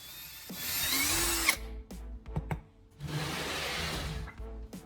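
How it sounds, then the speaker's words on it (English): A power drill whines as it bores into a wooden block in two long bursts, separated by a pause filled with clicks and handling knocks. "drill matching holes into the wooden block"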